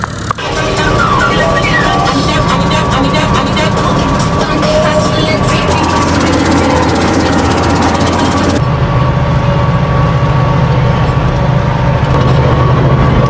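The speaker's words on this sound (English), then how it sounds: "we've emptied the fertiliser spreader" A loud, steady Massey Ferguson tractor engine drones with a rattling mechanical clatter from a fertiliser spreader running behind it in a field, the tone shifting partway through.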